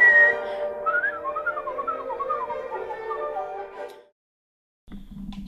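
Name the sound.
person whistling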